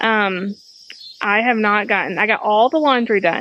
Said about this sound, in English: do y'all hear the crickets in the background?